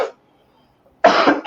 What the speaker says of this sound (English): Oh, I'm over this cough.